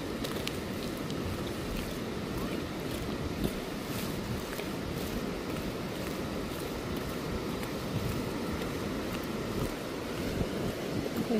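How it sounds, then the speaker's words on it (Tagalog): A strong river current rushes steadily at Bagsit River, a constant broad roar of flowing water, close and loud, with no voices over it. "Malakas pala yung agos niya."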